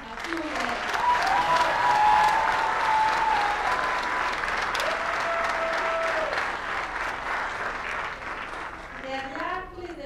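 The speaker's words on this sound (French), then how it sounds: "on leur voit une autre grosse main d'applaudissements à tous nos élèves" An audience in a hall applauds music students at an evening school concert: dense, sustained clapping from a crowd, loud and continuous, with a few whistles and voices mixed in.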